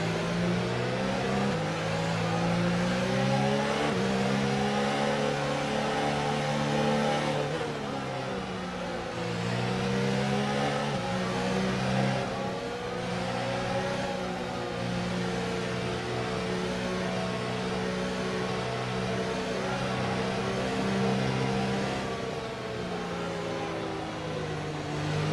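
An F1 car in the F1 2019 video game at the Singapore Grand Prix revs through its gears, a loud, steady high-pitched engine whine that climbs and drops in repeated shifts over a long stretch.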